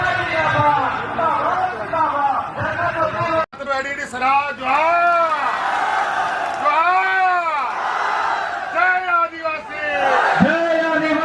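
A crowd of thousands in a village in Assam cheers to welcome Jharkhand chief minister Hemant Soren at an election rally. Loud whoops and chanted shouts rise and fall continuously, mixed with many voices.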